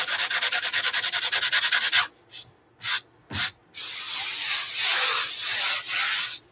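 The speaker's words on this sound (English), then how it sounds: "Just lightly sand it to make it smoother, because this is already gessoed." Sandpaper lightly rubbing over a gessoed canvas, first a fast run of even back-and-forth strokes, then a few separate swipes and longer broad passes, close and crisp with no voices.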